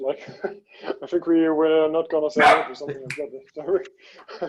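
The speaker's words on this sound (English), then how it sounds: "The dog barked." A dog barks a few short times in the background of a community meeting call while a person keeps talking over it, the barks faint and partly masked by the voice.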